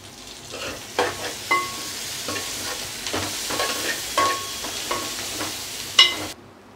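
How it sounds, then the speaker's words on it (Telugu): Three large sliced onions with mint, coriander and green chilies go into hot oil for chicken masala curry, frying under repeated stirring and scraping clicks, a steady moderate sizzle with sharper knocks throughout, then abrupt quiet at the end. "నూనె కాగాక ఇందులోకి 3 పెద్ద సైజు ఉల్లిగడ్డని ఈ విధంగా కోసుకున్నది వేస్తున్నాను."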